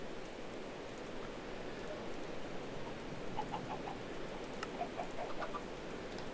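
Game chickens in Minecraft's Hexxit modpack cluck in short, soft bursts through a steady wash of background noise, a few faint calls scattered across the later half.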